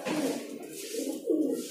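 Pigeons at a pigeon shop in Delhi coo close by in low, throaty rolling calls, two or three swelling phrases in a row with no talk over them.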